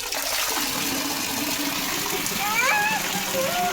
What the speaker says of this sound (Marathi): यांच्या घराजवळ छान धबधबा आहे